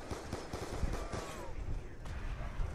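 Rapid bursts of gunfire in Call of Duty Black Ops 2 zombies mode, a dense run of sharp cracking shots that keeps going without a break, with game noise mixed in.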